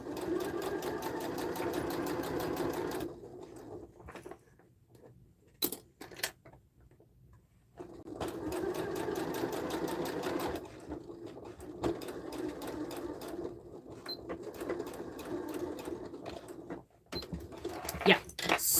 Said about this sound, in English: that back stitch didn't go too well